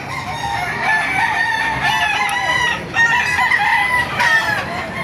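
Chickens and roosters at a chicken market in Baliuag crow and cluck together, several loud, overlapping crows layered close by in a dense, continuous chorus.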